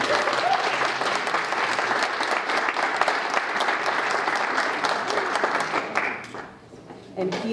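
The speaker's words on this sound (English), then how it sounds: "One more round of applause." Audience applauding continuously at a public safety town hall at Santa Ana College, a loud, steady wash of clapping that tapers off near the end.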